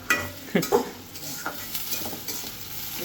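Ginger-garlic paste fried in oil and stirred in a pan, heard up close: a low sizzle broken by a few sharp metallic spoon scrapes and clinks near the start, then softer stirring.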